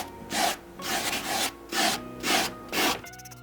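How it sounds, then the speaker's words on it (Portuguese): Coarse grit 50 wood sandpaper rubbing back and forth over styrofoam while shaping a carved shoe piece, five steady rasping strokes close up, ending in a brief different scrape. "Aqui eu vou utilizar uma lixa de madeira na gramatura 50"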